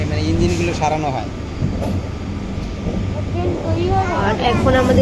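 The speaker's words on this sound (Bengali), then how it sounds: "আমরা ট্রেনে উঠে পড়লাম।" A local passenger train runs along with a low, continuous rumble and rattle, while people talk loudly over the rolling noise.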